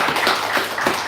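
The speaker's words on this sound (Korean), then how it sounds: "우리 일어나서 우리 환영의 박수 보내드리겠습니다." Church congregation applauding during a Sunday morning service to welcome a newcomer, a brief burst of steady group clapping, close and fairly loud with no talk over it.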